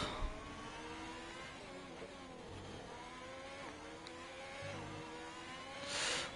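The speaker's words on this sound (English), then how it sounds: "We want to hear the engine sounds." A race car engine in a racing video game during a lap of the Singapore circuit, revving steadily with rising and falling pitch through gear changes, a smooth mechanical whine heard alone.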